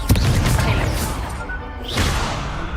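Loud, dense blasts from a fire-casting Confringo spell in the Hogwarts Legacy video game, a sharp burst at the start and another swell near the end over continuous rumbling combat noise.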